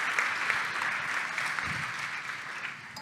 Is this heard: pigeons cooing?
no